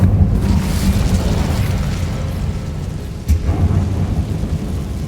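The Incendio fire spell in Hogwarts Legacy erupts in a loud, sustained roaring whoosh of flame in a catacomb, with a second burst flaring up partway through.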